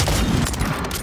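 Gunfire in a sniper video game, a dense, loud volley of rapid shots crackling without pause through the whole second.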